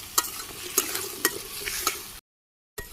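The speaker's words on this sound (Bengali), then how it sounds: "আমি সবগুলো দিয়ে দিলাম একসাথে, ভালো করে কষিয়ে নিই" Potato and taro pieces stir-fried with spices and green chili, with a spoon scraping through them in four evenly spaced strokes over a low sizzle. A brief silent gap follows before the sizzle returns.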